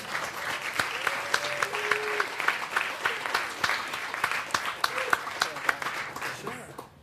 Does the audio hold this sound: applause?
yes